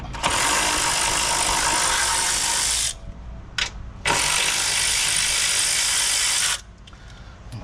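Fast ratchet clicking loudly and up close while undoing bolts on a HEMI coolant expansion tank, in two long sustained bursts separated by a brief pause with a short click.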